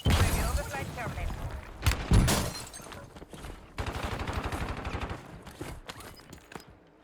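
Gunfire in Call of Duty Warzone, with sharp single shots followed by a sustained burst of rapid automatic fire and a few trailing pops, moderately loud and partly mixed with voice lines.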